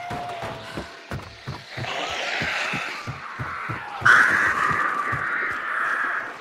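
Crows cawing in the video game Hunt: Showdown, a flock giving loud, harsh overlapping caws that swell midway, over a faint rhythmic thudding of footsteps.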